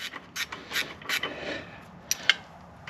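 Ratchet wrench clicking as bolts are turned on a snowblower, short bursts of rasping mechanical clicks coming in irregular groups, close and fairly quiet, with a few sharper ticks near the end.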